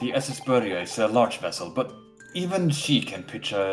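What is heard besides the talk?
No distinct noise like a dog, phone or traffic.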